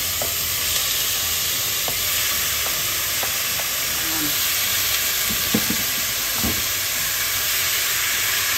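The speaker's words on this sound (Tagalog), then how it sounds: "ilagay muna natin yung ating baboy dito sa kaldero. At pamamantikain natin" Pork frying in oil in a cooking pot, a constant loud sizzle and hiss with occasional light clinks and stirring scrapes.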